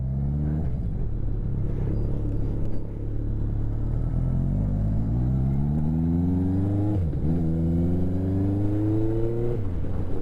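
A Yamaha XS1100 motorcycle engine with a sticky, dry clutch revs up and settles back repeatedly as the throttle is worked, a low steady rumble rising in pitch with each blip, close by.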